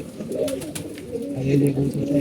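Pigeons, including black ones and young birds, coo close by in soft rolling phrases, one voice rising louder toward the end.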